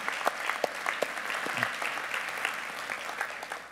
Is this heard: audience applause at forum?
yes